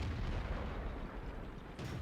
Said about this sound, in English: Hetzer tank is going to pop a shot there.